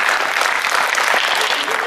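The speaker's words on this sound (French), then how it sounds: "je pense qu'on peut l'applaudir" Steady applause from an audience fills the whole moment, dense and continuous clapping without pause.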